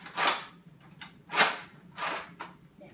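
A Nerf Mega Rotofury toy blaster being reloaded, giving three sharp plastic clacks in an uneven rhythm, each followed by a softer click, close by with no talking.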